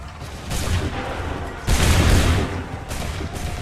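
Musket volleys crack out in Assassin's Creed III, three loud crashing bursts of massed gunfire in quick succession, each followed by a lingering rumble.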